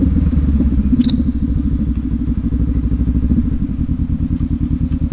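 A 2019 Honda CB500X motorcycle pulls in slowly on a Portland, Oregon street, its engine rumbling close and loud at low revs with an even pulsing beat and a light clatter.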